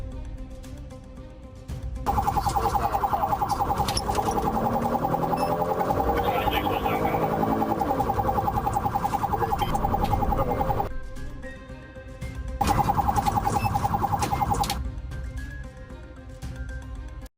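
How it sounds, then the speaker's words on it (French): Police car sirens wail during a chase, a loud, rapidly warbling electronic siren that runs for several seconds, cuts out briefly, then resumes, with road and engine rumble underneath. "C'est alors que l'officier a allumé les sirènes et la poursuite a commencé."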